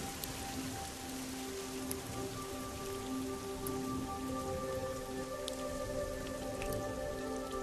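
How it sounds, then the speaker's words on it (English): Steady rain patters on surfaces at nightfall, a dense continuous hiss with scattered drips, even and unbroken throughout, with no voices. "With rain and the coming of night, a secret army comes out of hiding."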